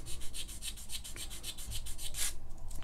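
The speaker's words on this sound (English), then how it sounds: "And then I'll take the sanding stick" Quick, rhythmic back-and-forth rasping of a sanding stick rubbing a small surface on a 1:35 scale Saladin armoured car model kit, close and fairly quiet, with no voices.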